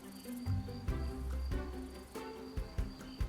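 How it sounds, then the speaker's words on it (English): Crickets chirp in quick, steady pulses, a high trilling close by over a soft low rumble. "She senses the presence of the crickets from afar."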